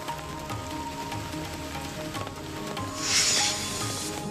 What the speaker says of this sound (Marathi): अनेक गावांमध्ये मुसळधार पाऊस सुरू आहे